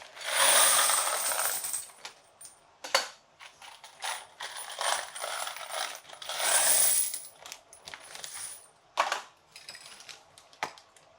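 Rifle brass cartridge cases for 7.62x39 jangle and clink as they are shaken hard in a gallon-sized ziploc bag, coming in bursts of dense metallic rattling separated by short pauses, close and fairly loud.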